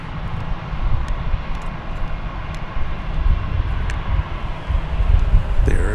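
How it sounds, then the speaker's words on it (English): A Boeing Dreamliner departs at DFW Airport, its jet engines building a loud, wind-buffeted roar that swells and surges over several seconds, with no voices. "we're getting ready for the big Dreamliner to go out"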